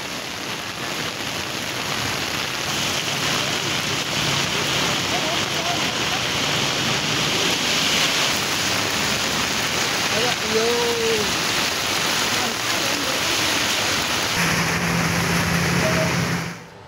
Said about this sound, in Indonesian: Jakarta dan sekitarnya sejak sore hari hingga malam ini diguyur hujan deras